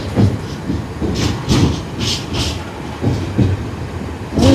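A freight train rumbles through Basingstoke railway station, its wagons clattering in a steady rhythmic clickety-clack over the rails, loud and close, with a faint hiss underneath.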